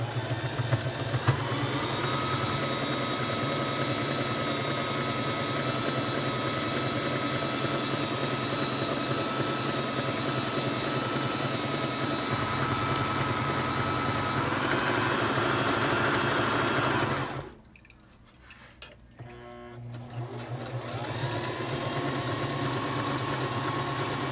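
A sewing machine stitches along the sides of fabric with a steady, continuous motor hum for most of the stretch, stopping briefly near the end before starting up again; no speech.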